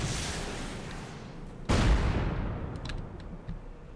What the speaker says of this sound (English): Hit them with a couple of rockets here